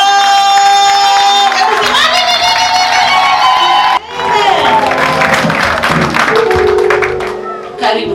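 An audience claps and cheers loudly and continuously with a crowd's shouts, over a musical backing with sustained tones, briefly dipping midway before carrying on.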